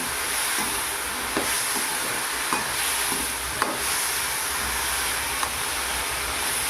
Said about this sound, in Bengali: এইভাবে কিছুক্ষণ নেড়ে চেড়ে ভেজে নেবে